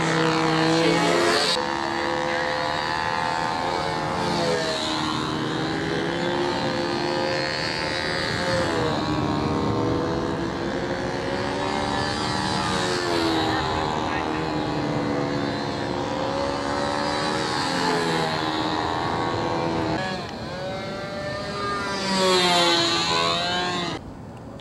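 An airplane engine drones loudly and steadily, its propeller tone rising and falling in slow sweeps, with a brief dip near the end.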